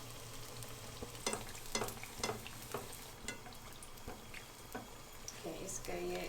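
A breadcrumb-coated veggie burger patty fries in oil with a soft, continuous sizzle and crackle, broken by several small pops and stirring sounds, fairly quiet overall.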